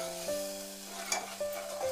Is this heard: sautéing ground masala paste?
yes